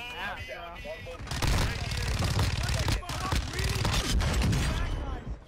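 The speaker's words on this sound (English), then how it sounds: "I hear pistols, so they don't have Friendly airstrike in the AO." Rapid bursts of video game gunfire crackle through a chaotic firefight, shots clustering in quick volleys while players talk over them.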